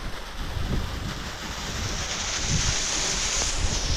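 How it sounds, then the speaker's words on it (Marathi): Steady rushing of water pumped by a motor from a well, with a constant mechanical hum underneath, continuous and fairly loud throughout. "विहिरीतलं पाणी पण चालू केलं"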